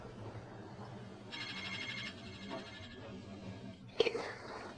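A telephone rings faintly in a quiet indoor room, with a short burst of electronic ringing in the middle. A sharper, brief sound follows near the end.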